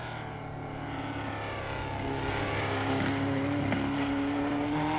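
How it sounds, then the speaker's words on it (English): Race car engines in a racing video game, Assetto Corsa, at a virtual 24 Hours of Daytona, drone and rise steadily, a sustained revving roar with a climbing tone, continuous and fairly loud with no talking. "These cars sound amazing."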